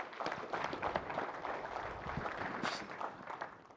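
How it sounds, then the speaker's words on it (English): Audience applause at a business seminar, a dense, even wash of clapping from a crowd in a hall, moderately loud and sustained throughout without any talk. "Round of applause for the AI that we've got"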